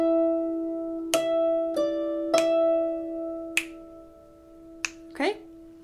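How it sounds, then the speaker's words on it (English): Six sharp finger snaps ring out alone at a steady, slightly uneven pulse, played over a sustained musical drone during a tune lesson for The Sheep Under the Snow. "I will snap my fingers so you get the sense of it"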